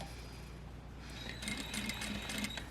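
A sewing machine stitches a single welt pocket, starting after a quiet moment and then running in a steady, close mechanical whir with a quick rhythmic tick.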